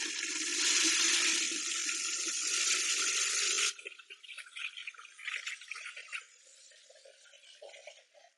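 Water pours from a tap into a container in a steady, loud gushing stream for several seconds, then stops abruptly and gives way to lighter splashes and trickles that fade out.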